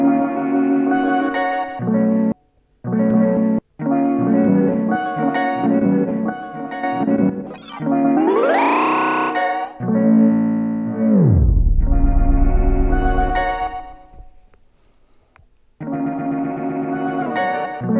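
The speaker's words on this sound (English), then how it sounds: "We now have delay." Sonicware Liven LoFi-12 sampler playing a melodic line through its delay effect, with echoing repeats, a rising pitch sweep, then a deep descending drop before the tone returns; loud and steady with brief gaps, no talking.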